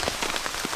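Rain falls steadily on a surface and spatters onto a camera outdoors in Greenland, a dense, close hiss of drops with soft louder taps and no voices.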